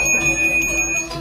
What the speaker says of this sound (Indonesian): Suara tersebut adalah suara genta